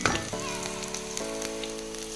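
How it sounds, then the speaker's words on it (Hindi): Tomato paste frying in a pan over full flame for Punjabi sarson ka saag, a steady close sizzle and bubbling hiss after an initial splash, with a faint background tone and no talking. "ये टमाटर का पेस्ट हमने इसमें ऐड कर देना है, इसे अच्छे से फ्राई कर लेंगे"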